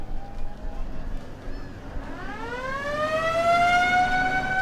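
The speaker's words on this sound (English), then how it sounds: "some fantastic sirens and horns featured on these vehicles as well." A vintage military vehicle's siren at a vehicle cavalcade winds up from low to a high, steady wail, loud and close, with a faint earlier tone and background murmur.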